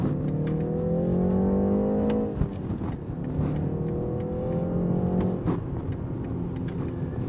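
A new BMW 3 Series in sport mode accelerates hard on an open road in sunny spring weather, engine pitch climbing through two clear upshifts, close and steady with no talking.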